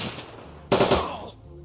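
Automated turrets fire a single rapid burst of gunfire in the Shadowrun: Dragonfall video game, erupting suddenly after a quiet stretch and fading over about half a second.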